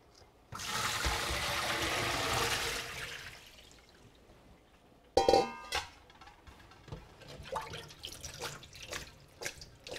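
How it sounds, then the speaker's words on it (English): Water from cooked potatoes and string beans pours out of a pot in a home kitchen, a loud rushing gush for a few seconds that gives way to drips, clatter and trickling. "Now you drain again the water."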